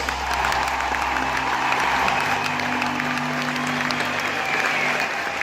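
Sustained applause from a crowd at a Friesian horse studbook stallion championship, honouring a departing stallion; steady, dense clapping fills the arena with a low background hum beneath.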